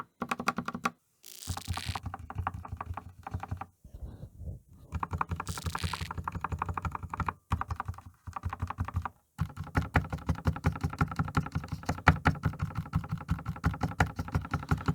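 Typing on a GK96s mechanical keyboard with lubed switches: steady runs of close, crisp key clacks with a few brief pauses between bursts, no voices.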